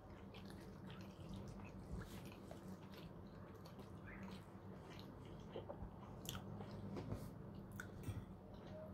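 Someone eating chopped mackerel and pink salmon pâté up close, soft wet chewing and smacking with occasional faint crunchy bites, quiet and continuous with no talking.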